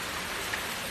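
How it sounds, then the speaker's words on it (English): Rain from a Hurricane Ian rain band pours steadily outside a garage, a dense, even hiss of falling water with no voices. "It's raining here too."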